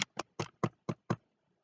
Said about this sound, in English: On heard a gentle tapping on his bedroom door.